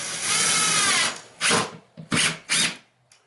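A Ryobi 18V cordless power drill running on a 5000 mAh replacement lithium-ion battery whirs loudly up close in one long run, then in several short bursts with brief gaps between them, and no one speaks.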